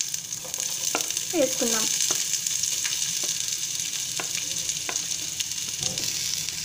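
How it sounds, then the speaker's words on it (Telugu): Chopped onion pieces fry lightly in a pan for onion kachori, giving a steady close sizzle with a few scraping stirs and a brief spoken word over it. "ఇప్పుడు దీన్ని మనం లైట్గా ఫ్రై చేసుకుందాం."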